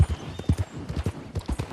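Horse hooves clip-clop steadily in Red Dead Redemption 2, a close, rhythmic trot of evenly spaced thuds with no talking.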